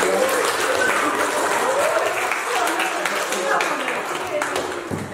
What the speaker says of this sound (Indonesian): Oke, tepuk tangan untuk kamu ya.